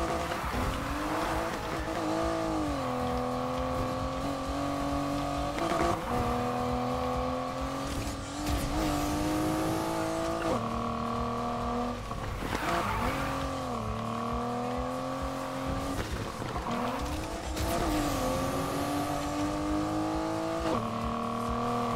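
A Buick Grand National races in Need for Speed Heat, its engine holding a loud steady drone that sags and climbs again as the car slows for corners and accelerates out, repeating several times across the run.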